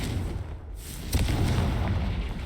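A Confringo blasting spell goes off in Hogwarts Legacy, a loud booming explosion with a rumbling burst that swells after a brief dip and sustains to the end.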